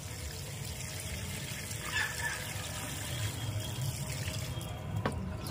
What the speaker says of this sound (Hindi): अब इसमें कर देंगे हम वाटरिंग, और वाटरिंग कर देंगे भरपूर मात्रा में